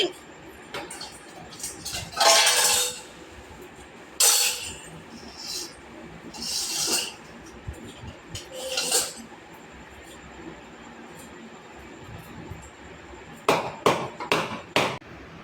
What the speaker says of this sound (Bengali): সজনে ডাঁটা কেটে নিচ্ছি।